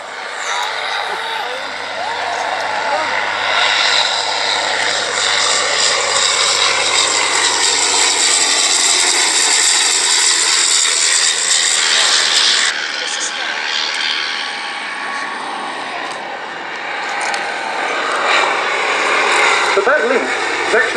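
A Bristol F2B biplane engine drones at an airshow, a loud sustained roar that swells and fades as the aircraft passes, while a commentator talks over it.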